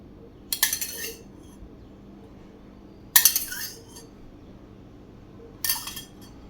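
Three separate metal clinks of a spoon stirring soaked chia seeds into a mango sabudana shake in a glass, each a short bright clatter with quiet pauses between.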